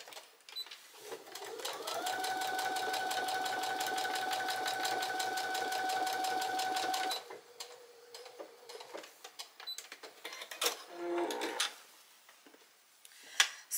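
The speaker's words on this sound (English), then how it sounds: "Then I'll stitch the center back and then the sides to it." Sewing machine stitching the back and side seams of a vintage dress bodice, a steady fast whirring chatter for several seconds, close, followed by quieter handling clicks and fabric rustle.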